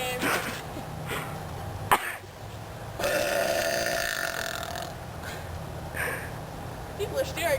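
Loud, drawn out burps erupt close up, several in a row including one long sustained belch, mixed with coughing and throat sounds and people talking.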